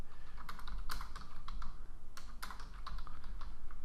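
Someone types on a computer keyboard to enter stamp collection data, with quick irregular bursts of close, soft key clicks and short pauses between them.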